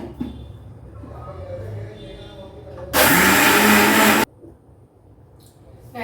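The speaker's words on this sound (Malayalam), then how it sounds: "പകുതി അരി അരക്കട്ടെ." A mixer grinder grinds rice for instant appam batter in a home kitchen, roaring loudly in one burst of just over a second between quieter stretches of background sound.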